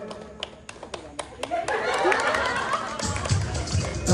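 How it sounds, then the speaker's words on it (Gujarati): At a village honour ceremony during Diwali and New Year celebrations, scattered hand claps build into a fuller round of crowd applause, with chatter and voices mixed in and close handling taps early on. "વિજયભાઈ હવે જોરદાર તાળીઓથી વધાવવામાં આવે"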